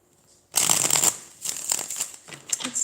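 A deck of tarot cards being shuffled in several quick riffling bursts, close and crisp, with brief pauses between.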